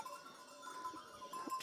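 Goats bleat at a hillside village farm in Garhwal, faint and distant, with thin drawn-out cries over quiet rural background and no talking.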